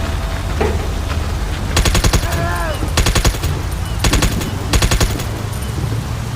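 Rapid automatic gunfire rattles out in four short bursts amid a dense, rumbling battlefield ambience in the video game SOCOM: U.S. Navy SEALs Fireteam Bravo 3, loud and close over a constant low background roar.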